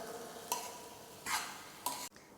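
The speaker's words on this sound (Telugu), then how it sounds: "ఇదంతా కూడా బాగా మిక్స్ చేసుకోవాలి." A spoon scrapes through a mixture of ground chickpea paste and potato in a pan for chana chaat, three short, distinct stirring strokes separated by quiet pauses.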